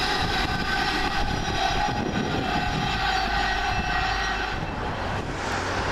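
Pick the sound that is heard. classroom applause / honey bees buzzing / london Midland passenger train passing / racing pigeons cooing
london Midland passenger train passing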